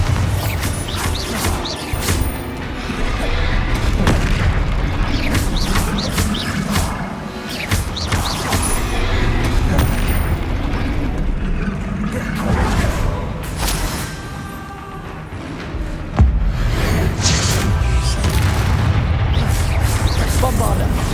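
Bombarda spell blasts in Hogwarts Legacy, a run of heavy booming explosions with crumbling, creaking debris, repeated through a busy game soundtrack while a voice speaks over it.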